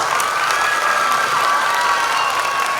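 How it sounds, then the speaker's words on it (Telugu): Steady dense applause with cheering from a large crowd, loud and continuous throughout, with no pause or single voice standing out. "అందరు గట్టిగా చప్పట్లు పెట్టాల"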